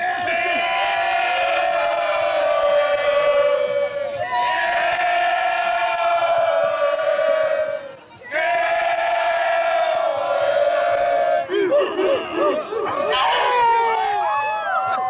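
Supporters of an amateur football club in South Australia chant together loudly in long, sustained phrases, pause briefly, then chant again before the sound breaks into scattered shouts and cheers.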